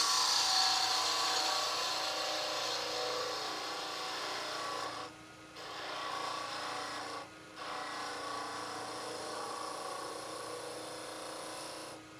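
Hand sanding on a wooden part gives a steady, close rasping scrape that pauses briefly twice, over a faint background hum.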